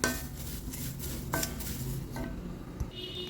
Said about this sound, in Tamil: ஒரு கைப்பிடி கீரை பொடிச்சதை எடுத்துருக்கேன். நல்லா வறுத்துக்குவோம்.